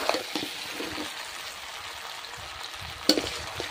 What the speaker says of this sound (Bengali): মাংসটা জল ঢেলে দিলাম।